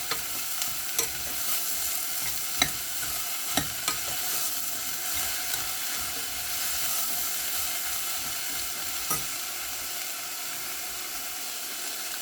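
Zucchini and other vegetables sautéing in a pan give a steady, close sizzle and hiss, broken by occasional sharp clicks of a utensil stirring against the pan.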